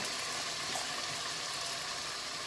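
Steady sizzling and hissing of potatoes, carrots and lentils sautéing in a hot pot, close and even, without any talking.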